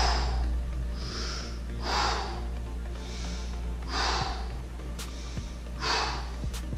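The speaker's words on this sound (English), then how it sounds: "then I'm gonna breathe about 5 times." Slow, deep breathing held during a capoeira stretch, about five audible breaths spaced roughly a second apart, soft and close over a low background hum.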